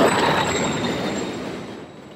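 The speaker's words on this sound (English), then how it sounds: "Another train coming." A train rushes past in a tunnel in Modern Warfare 3, a loud roaring rumble with squealing wheels and rail clatter that slowly fades as it moves away.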